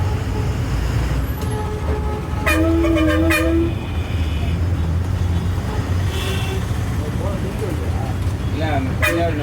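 Train at Ramanathapuram railway station sounds several short horn toots over a busy, rumbling background, with a few fainter whistles later and people talking nearby.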